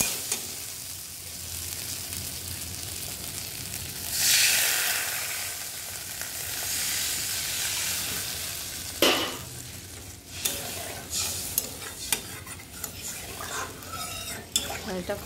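Water poured into a pan of well-fried spice paste for an egg curry, with a brief loud hiss around four seconds, then steady simmering sizzle and intermittent scrapes and clinks of a spoon stirring against the pan.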